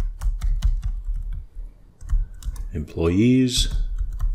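Rapid clicking keystrokes on a computer keyboard while code is typed, close and steady, with someone speaking briefly partway through.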